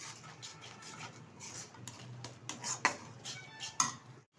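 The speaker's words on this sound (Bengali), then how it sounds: "এবার সবগুলো উপকরণ আমি একসাথে ভালোভাবে কষিয়ে নেব" Spoon scraping and clinking in a pan while spices for a Kashmiri-style paneer curry are sautéed, with soft stirring rubs and a couple of sharper metallic knocks near the end.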